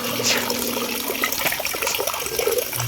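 Irrigation water flows beside a tilapia fish pond in the countryside, a close, steady rushing and gurgling that continues throughout.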